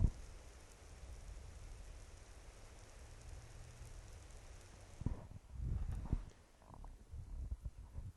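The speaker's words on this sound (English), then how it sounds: "it's raining out here as I can see it." Steady rain falls outdoors as a dense, even hiss for about five seconds, then gives way to quieter, patchier patter with some low rumbling bursts near the end.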